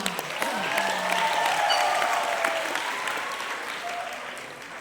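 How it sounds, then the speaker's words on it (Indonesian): Audience applause at a campus presentation held at a high school, a dense, sustained round of clapping from a large crowd that swells and slowly tapers over several seconds. "Tepuk tangan buat kita semua."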